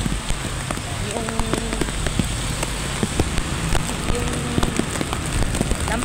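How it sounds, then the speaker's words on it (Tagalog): Heavy rain pours down steadily during flooding in Caloocan, a dense continuous hiss with faint voices underneath. "pero malakas pa rin yung ulan"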